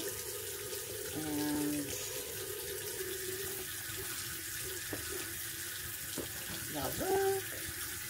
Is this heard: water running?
yes